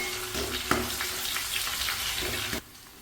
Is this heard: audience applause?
no